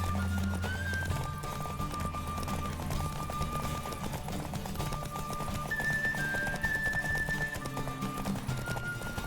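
A horse's hooves clip-clop in a fast steady gallop during a race in the video game The Witcher 3, beneath a constant bed of music and ambient noise, moderately loud throughout.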